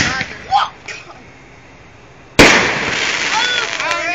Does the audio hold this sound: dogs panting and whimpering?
no